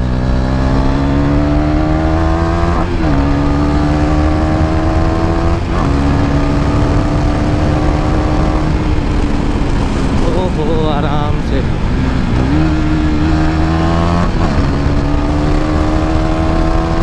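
KTM Duke 390 motorcycle engine accelerating loudly through repeated rising revs and gear shifts, close and continuous for the whole stretch.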